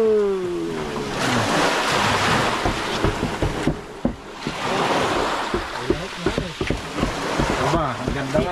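Ocean waves washing around a wooden bangka boat, rushing surges with wind noise on the microphone while people talk over the water.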